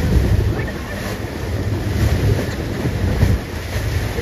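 Sea waves at Goa beach surge and wash continuously, a broad steady roar with heavy wind rumble on the microphone and no clear voices.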